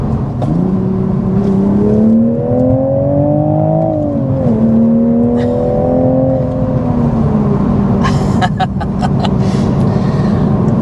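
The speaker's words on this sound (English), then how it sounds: "the active exhaust does a fantastic job of just making this inline 6-cylinder have so much character." A Toyota GR Supra MkV inline-six engine with active exhaust revs up steadily with a rising, throaty exhaust note, eases briefly, then climbs again; loud and close, with a few clicks near the end.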